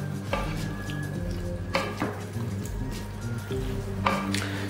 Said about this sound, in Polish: I mieszamy